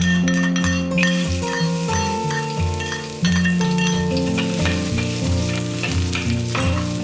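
Garlic sizzles in olive oil in a hot wok, a loud, steady fry close up, with clinks and scrapes of a stirring utensil against the metal through the whole stretch and no voices.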